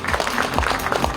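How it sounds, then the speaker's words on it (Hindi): Applause fills a stage event as a producer is called up, a steady dense patter of clapping from a crowd with no gaps. "एक बार जोरदार तालियां चाहिए।"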